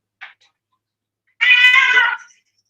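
A cat makes a tiny chirp, then after a pause lets out one longer, strained meow nearby, loud and clear in a quiet room.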